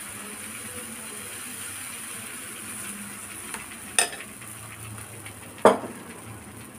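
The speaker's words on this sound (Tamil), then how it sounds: "ஒரு நான்ஸ்டிக் தோசைக்கல வச்சுட்டு கொஞ்சம் நெய் தடவிக்கிறேப்பா." Paruppu poli cooking in ghee on a nonstick griddle, a faint steady sizzle with two sharp clinks of utensils against the pan near the end.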